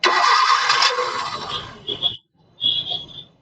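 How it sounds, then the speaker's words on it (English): A 2013 Maruti Suzuki Swift VXi petrol engine with a two-cylinder misfire cranks and catches, a loud starter whir giving way to an uneven running note, then a brief gap before revving again. "Now start the engine without using the accelerator."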